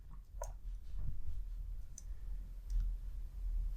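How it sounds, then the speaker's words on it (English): A few sharp, isolated clicks from a computer mouse pressing a debug button, spaced about a second apart over a low background hum, with no voices. "I click the debug button"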